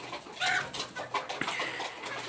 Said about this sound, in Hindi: ये जो इसके अंदर आप मुर्गे देख रहे हैं ना बड़े, ये मेरे पहले मुर्गे हैं